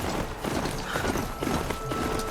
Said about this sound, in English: This Strider is fast! This beats walking. So now I have a machine horse.